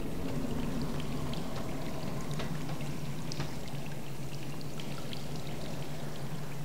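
Water gushing and splashing as a swimming pool drains in the Darksiders video game, a steady pouring rush with scattered drips, continuous and fairly close with no talk.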